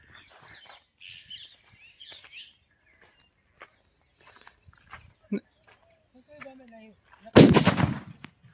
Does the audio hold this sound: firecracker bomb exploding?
yes